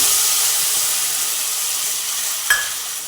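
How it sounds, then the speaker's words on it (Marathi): Ground paste is dropped into hot oil with cloves, a cinnamon piece, star anise and asafoetida, sizzling in a steady close hiss, with a brief clink or stir near the end. No voices. "दोन लवंगा दालचिनीचा तुकडा आणि हिंग आणि ही वाटलेली पीठ टाकायची"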